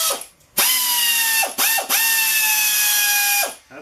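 A Harbor Freight air ratchet runs in three close, loud bursts, each a steady high pneumatic whine with a sharp start and a fading stop, separated by brief pauses.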